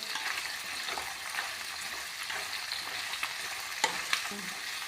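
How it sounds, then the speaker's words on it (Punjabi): Onions fry in a pan for an onion and vadi curry, a continuous crackling sizzle with a few light clicks of stirring, close and fairly loud. "ਆਪਾਂ ਜੀ ਪਿਆਜ਼ਾਂ ਨੂੰ ਭੁੰਨ ਰਹੇ ਹਾਂ ਜੀ"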